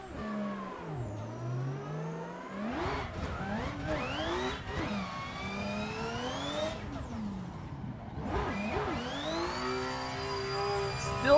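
A competition drift car's engine in a racing video game set at Long Beach revs hard, rising and falling through repeated sweeps with brief lifts off the throttle, loud and close with no talk.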